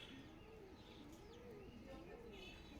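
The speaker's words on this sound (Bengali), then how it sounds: "খাঁচার মধ্যে যে এক জোড়া আটকানো নরটা কিভাবে ডাকাডাকি করতেছে" A male pigeon calls from inside a cage, giving faint, low, wavering coos in a repeating rolling rhythm under background noise, with a person talking softly.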